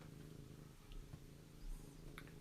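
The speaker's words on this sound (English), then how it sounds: "Cat's name is Pumpkin." A cat purrs softly and steadily nearby, a low continuous rumble with a faint rhythmic pulse and no talking over it.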